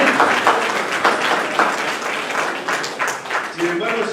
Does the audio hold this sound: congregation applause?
yes